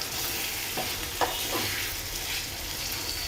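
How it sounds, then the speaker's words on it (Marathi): Spices sizzling in hot oil for a kadhi tempering, a steady close crackle and hiss with a few brief sharper pops and stirring scrapes, no voices. "आपली फोडणी छान तयार झालेली आहे."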